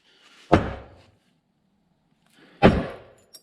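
Two sharp knocks ring out about two seconds apart as a priority valve spool is driven out of a John Deere 3140 tractor, each hit loud and close with a short ringing decay.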